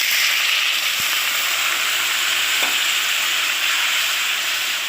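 Water poured over frying spices in a pan sets off a loud, steady sizzle that runs without a break, with a couple of faint knocks partway through.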